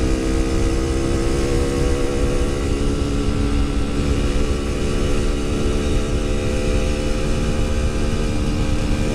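A Yamaha RX King 135cc two-stroke motorcycle engine runs at a steady, loud, continuous drone with a rough low rumble that does not let up, with no voices over it.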